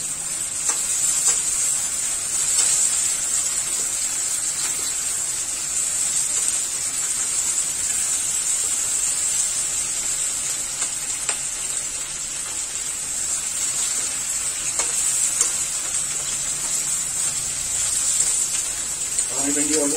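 Tomato pieces frying in a pan alongside okra, a steady moderate sizzle and hiss lasting throughout, with occasional stirring clinks and a voice talking over it.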